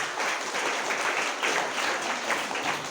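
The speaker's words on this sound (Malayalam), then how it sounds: "കൈയടിച്ച് അഭിനന്ദിക്കുക." An audience claps warmly at a school investiture ceremony, with even, sustained applause heard from a slight distance that holds steady throughout.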